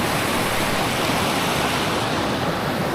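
A river near Puerto Princesa rushes along with a moderate current, giving a steady, dense wash of flowing water that holds the same level throughout with no voices.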